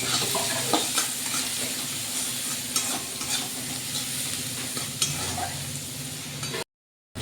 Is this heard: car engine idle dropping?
no